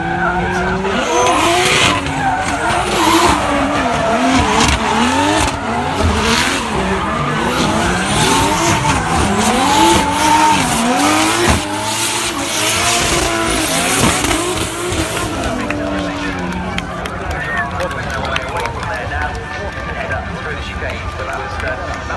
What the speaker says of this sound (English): the three Jap speed cars